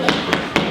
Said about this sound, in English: there was a knock at my door.